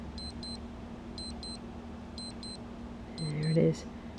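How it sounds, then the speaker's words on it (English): A faint electronic alarm from a Bedol water-powered clock beeps in quick pairs, repeating four times over a low steady hum, with a short voice near the end. "so that was the alarm function"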